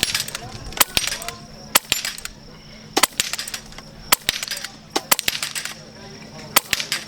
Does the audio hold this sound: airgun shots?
yes